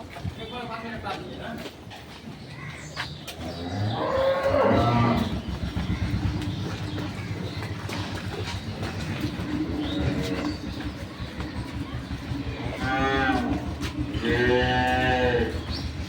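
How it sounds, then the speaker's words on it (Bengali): A dairy cow being led out on a farm gives several loud moos, one early and a pair near the end, over steady background noise and people talking. "এখন গাভী গরুটাকে বের করা হচ্ছে"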